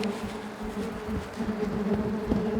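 Yellowjacket wasps from a large nest swarm inside a bag, making a dense, close, continuous buzzing drone with faint rustling.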